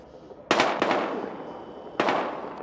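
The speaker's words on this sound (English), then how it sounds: "We've got gunshots." Gunfire in the video game Battlefield Hardline: three sharp reports, two close together and one more after a pause, loud and echoing over a quiet background.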